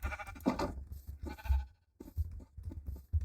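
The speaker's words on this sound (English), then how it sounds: "Now I just gotta get some sheep. Come here, sheep." Sheep bleating in the Minecraft video game, several short game bleats in quick succession with brief pauses between them, loud and close, with no talking.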